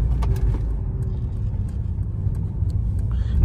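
A 2024 Mercedes-Benz AMG S580 driving through New York City traffic, heard as a low, steady engine and road rumble from inside the car with faint mechanical clicks and no talking.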